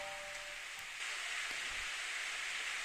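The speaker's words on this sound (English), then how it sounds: "I suddenly hear the sound of rain." Steady rain falls in the Steins;Gate video game, a soft even hiss of droplets that holds at a constant low level for the whole stretch, with no voices over it.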